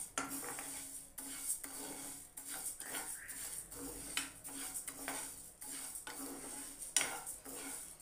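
Moong dal dry-roasts in a pan while a spoon scrapes and stirs it, quiet repeated metallic scrapes and clinks over a faint low hiss, close and soft.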